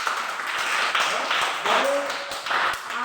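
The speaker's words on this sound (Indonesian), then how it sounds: "Tepuk tangan untuk teman kita yang sudah jawab." Scattered classroom applause for a student who answered a question, a steady patter of many small hands filling the room, with children's voices talking and calling out over it.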